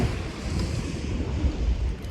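Ocean waves and wind on a beach during a seaside outing, heard as a steady, loud wash of surf and gusty wind noise with no voices.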